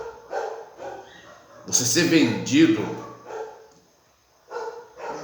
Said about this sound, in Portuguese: eu sei que o cachorro está latindo